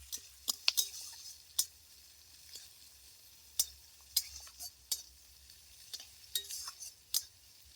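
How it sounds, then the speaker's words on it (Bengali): Whole spices crackle and sizzle in hot oil as a tempering for a mixed vegetable curry, with scattered sharp pops at an irregular pace, fairly quiet, over a low steady hum. "ভেজে নিচ্ছি এই ফোড়নটা ভালোভাবে না হলে তরকারি টেস্টটা ভালো হবে না"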